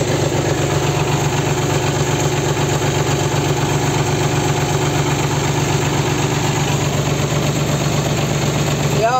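A Valmet 500 tractor engine idles with a steady, loud, unbroken mechanical rumble and vibration, and no one speaks.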